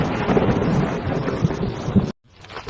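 A cartoon thunderstorm with heavy rain and a sudden strong wind, the kind that topples a big tree onto a street cart. A steady loud roar of rain and rumbling thunder cuts off abruptly, then returns faintly.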